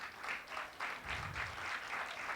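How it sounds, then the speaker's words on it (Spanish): Congregation applauding together at a Thursday church service, a steady wash of many hands clapping at moderate distance, continuous with a few rhythmic surges. "Dele un aplauso al Señor."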